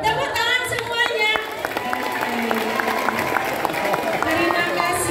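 A school gathering breaks into scattered clapping and crowd noise. Sharp individual claps stand out against children's voices and chatter throughout.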